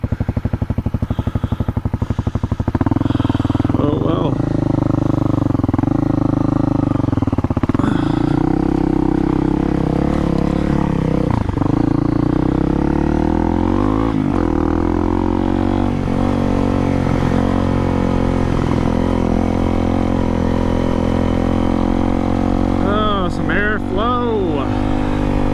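Honda CRF250L dual-sport motorcycle ridden around a creek, its engine droning steadily and close throughout, with revs rising and falling in waves and a few sharp throttle blips near the end.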